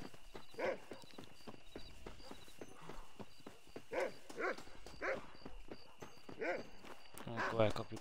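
In the western video game Red Dead Redemption, horse hooves clip-clop in a steady, quiet rhythm while someone talks over them.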